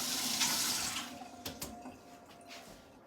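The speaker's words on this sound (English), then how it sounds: "Let me rinse my hand" A hand rinsed under a running kitchen tap while making bagels: a steady, faint splash of flowing water that thins out, with a few soft clinks and drips.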